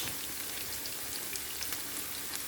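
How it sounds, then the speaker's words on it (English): Chopped onions fry in a pan, giving off a steady, even sizzle with fine crackling pops throughout. The sizzle is fairly quiet and is heard alone, with no talking. "just some chopped up onions. Fry that a little bit"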